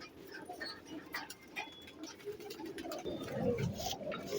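Blue-eyed thuth pigeons coo softly and steadily against a faint, noisy background, with a slightly fuller run of calls near the end.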